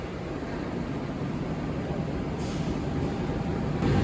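From inside the Gumarang passenger train as it pulls into Cirebon station at night, a steady, rumbling rail noise runs throughout and grows slightly louder near the end.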